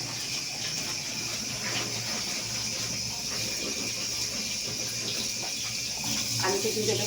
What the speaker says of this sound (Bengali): তো আলুটা ধুয়ে নিই